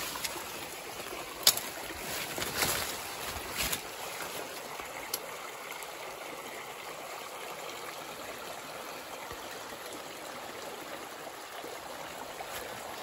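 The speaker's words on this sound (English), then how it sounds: "So here's the creek on my right-hand side." Water in a hillside creek flows steadily beside a hiking trail, a soft continuous rushing trickle, faint and close, with a few brief scuffs and knocks early on.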